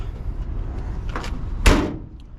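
A 1962 Chevrolet Nova convertible's door shuts with a single solid thump after a few quieter handling noises.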